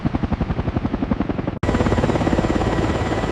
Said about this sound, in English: A helicopter this large was never supposed to look so powerful in the sky.